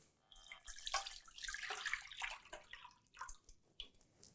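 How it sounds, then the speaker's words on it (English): About 700 ml of whole milk is poured into a pan, a soft continuous liquid splash and gurgle lasting a few seconds, faint and close with no talk. "And pour it right in my pan."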